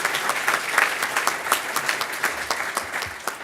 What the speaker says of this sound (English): can I get another round of applause for our 4 awesome lady leaders